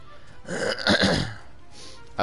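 A person coughs and clears their throat nearby in a rough, rasping run of throaty bursts, then a pause and a final short hack, with no speech.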